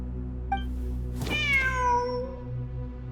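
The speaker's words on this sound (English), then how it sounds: "Wait, there it is! The cat!" A cat in the video game Genshin Impact gives a single drawn-out meow with a falling pitch, clear and close over a soft steady musical background hum.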